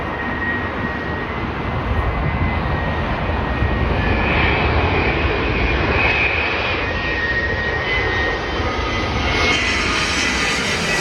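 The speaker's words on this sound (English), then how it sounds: "right now we got a Boeing 787-9 Dreamliner, British Airways from LHR, London Heathrow International Airport." A British Airways Boeing 787-9 Dreamliner arriving from London Heathrow at O'Hare, its jet engines producing a loud, steady broadband roar close by that holds evenly throughout.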